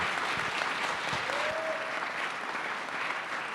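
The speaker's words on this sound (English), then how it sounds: "Round of applause, please." A conference plenary audience applauds steadily after a panel on universities and community-engaged research, a dense, even wash of clapping filling the room throughout, with a faint voice briefly audible underneath.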